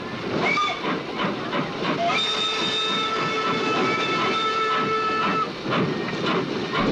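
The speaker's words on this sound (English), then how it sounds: "Oh, I hear that train a-coming." A steam train's whistle sounds over steady loud hissing steam and rumble, a sustained close blast with no talking.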